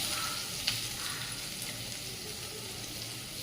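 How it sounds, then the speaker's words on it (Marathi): Chopped onion sautéing in oil with bay leaves, curry leaves and asafoetida for a brinjal curry, a moderate, continuous sizzle with a single sharp clink early on and light stirring throughout. "हिंग कांदा चांगला परतून घेऊया"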